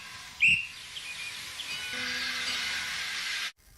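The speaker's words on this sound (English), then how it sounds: "Oops, that's the guard's whistle." A train guard's high, shrill whistle blast lasting a few seconds over a steady background hiss, ending abruptly.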